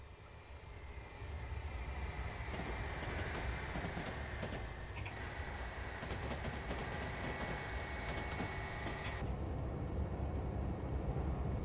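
A train passes on the Chiltern Main Line in Train Simulator, a steady rolling rumble with an engine drone and high tonal whine that holds throughout at moderate level, with no talk.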